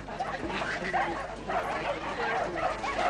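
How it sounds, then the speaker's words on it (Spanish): A dog barking and yipping in repeated short bursts, with some whimpering, close by and mixed with people talking. "Llévate a ese perro de aquí."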